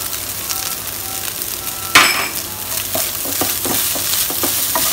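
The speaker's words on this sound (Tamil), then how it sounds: "எடுத்து ஒரு 1 மினிட் கிட்ட நல்லா வதக்கிக்கோங்க" Fish podimas with pepper powder sizzles and fries in a pan, with a sharp clink near the start and then steady, close stirring and scraping under the hiss.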